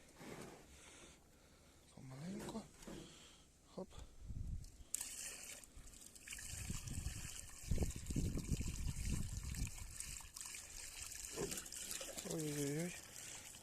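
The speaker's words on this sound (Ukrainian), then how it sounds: "отак гаряча вода, лійка і будемо лияти" Hot water is poured from a watering can onto an MTZ-80 tractor in freezing weather, giving a close, uneven splashing and trickling stream mixed with clanks and handling noises, while someone talks throughout.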